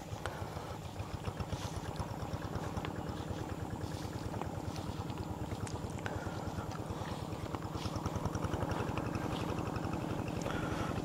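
Tractor working a flooded rice paddy, a steady chugging engine with fast regular pulses and a constant rumble, heard at a moderate distance with wind noise on the microphone and no talk.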